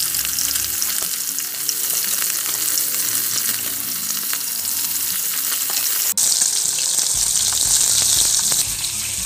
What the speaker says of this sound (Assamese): এতিয়া মাছখিনি ইয়াতে ফ্ৰাই কৰিলোঁ